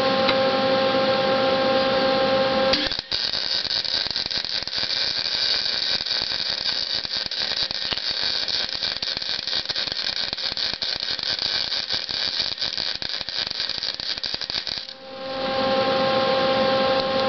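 A metal weld gives a loud, continuous crackling buzz for about twelve seconds, set between stretches of steady electrical hum.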